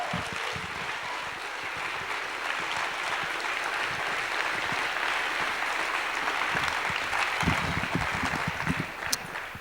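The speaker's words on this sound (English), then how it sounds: "let's give these people a huge round of applause for all these amazing sponsors who make Hackcon possible" A large audience at a hackathon conference kickoff claps steadily for sponsors, a continuous wash of applause with some sharper individual claps standing out, sustained throughout.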